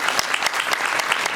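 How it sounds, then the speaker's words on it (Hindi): Enthusiastic applause for children at a spiritual discourse gathering, a dense burst of many hands clapping close and loud for the whole short moment, with no voice over it. "इनके लिए एक बार जोरदार ताली।"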